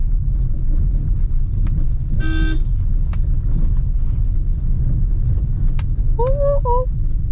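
Ciaz sedan driving slowly through narrow village lanes with stones underfoot, a steady low engine and road rumble throughout, with a brief horn-like tonal burst midway and faint voices near the end.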